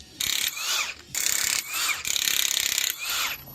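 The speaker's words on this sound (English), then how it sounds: "spin that lug around and shear it off with the Milwaukee 1/2" impact gun" A Milwaukee 1/2 inch impact gun hammers in repeated bursts, spinning and shearing off the bolt head of a cable lug on a 33kV straight joint, with loud rapid rattling runs separated by brief pauses.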